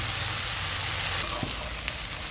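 Banana flower dropped into spice paste frying in oil, a steady broadband sizzle that shifts and brightens midway as the pieces go in, with a few light stirring knocks, close and alone.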